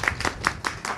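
Audience at a Yörük association gathering clapping by hand, about five distinct claps in a loose, fairly quick rhythm, close and moderately loud.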